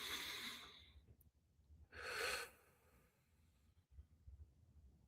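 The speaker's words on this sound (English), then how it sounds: "the goal is to try and use our diaphragm or by our stomach instead of our chest doing the breathing" Slow diaphragm breathing during an exercise, with two soft breaths, an airy exhale then a fuller breath about a second later, quiet and close, followed by faint stillness and small rustles.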